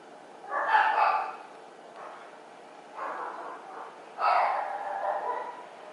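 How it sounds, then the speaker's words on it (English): Several pet dogs in a home bark and yip in short bursts, moderately close, with gaps between bouts and no talking over them. "I literally have like 4 dogs and they all bark"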